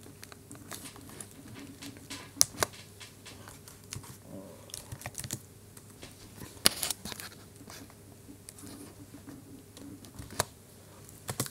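Irregular bursts of keystrokes on a computer keyboard while code is typed, close and fairly quiet, with sharper isolated clicks over a faint steady background hum.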